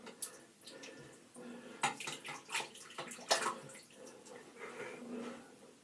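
Tap water runs and splashes into a basin in an ordinary bathroom during a shave, with irregular splashy bursts and dripping, close and moderately loud, no talking.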